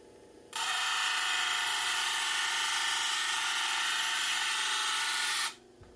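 A stone being ground on an aggressive 80 grit wheel gives a loud, steady, high-pitched grinding whine that starts abruptly, holds evenly for about five seconds, then cuts off.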